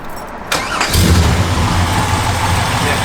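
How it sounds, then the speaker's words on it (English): A 1969 Chevrolet Chevelle SS convertible with a Tremec transmission cranks briefly and fires up, settling into a loud, steady rumbling idle close by. "Got to be neutral to start it"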